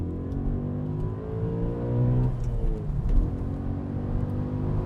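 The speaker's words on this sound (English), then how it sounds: "I'm gonna hit the S button on the steering wheel. That opens up the exhaust valves" Audi RS4 B7 engine revving with its exhaust valves open, a deep rumbling drone that swells and dips as the revs rise and fall, heard from inside the cabin with no talk.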